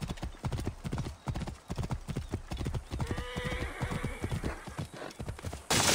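Rhythmic clip-clop of horse hooves at a steady gallop in the Assassin's Creed Origins game, close and prominent, with a horse whinnying midway.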